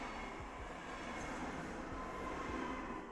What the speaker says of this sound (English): Sorry for the noise, there's a train passing by